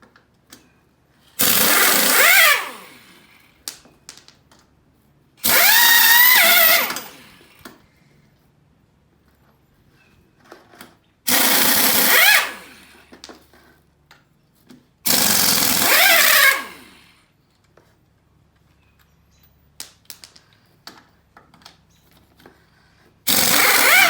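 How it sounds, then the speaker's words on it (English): A power tool, likely an impact wrench, zips off lug nuts from a 2004 Honda Foreman ES ATV wheel in four loud rattling bursts of about two seconds each, separated by quiet pauses with small clinks. "finish taking off the lug nuts so we can get these tires off"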